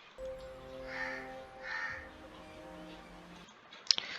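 Crows caw repeatedly in a movie trailer shot of birds over mountains, waterfalls and a river, with a sustained tonal music bed underneath and a sharp bright accent near the end.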